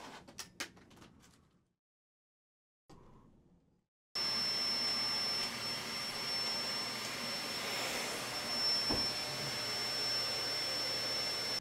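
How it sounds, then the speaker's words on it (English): A vacuum cleaner running steadily after a few brief knocks and a short silence, its loud, continuous whine and rush filling the rest of the clip as it sucks up a spider indoors. "I needed the vacuum to kill the spider"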